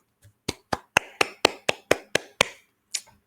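Hands clap about ten times in a steady, evenly spaced rhythm, each clap sharp and close, followed by one final clap after a brief pause.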